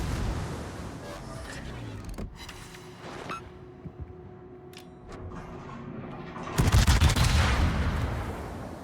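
Naval guns in World of Warships fire as sharp booming salvos between quieter engine and water rumble, with a heavy loud burst of shots near the end.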